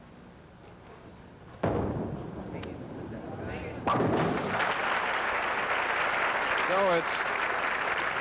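A crowd at a 1983 professional bowling tournament, the PBA King Louie Open, erupts into loud, sustained cheering in two surges, with a commentator talking over the noise.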